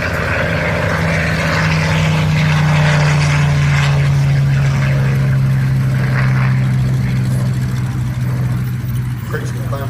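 A P-63 King Cobra propeller fighter on its takeoff roll at an air show gives off a steady, loud engine drone with a sustained low hum, while a commentator talks over the public address throughout.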